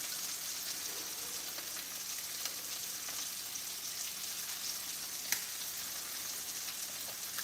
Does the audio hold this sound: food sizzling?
yes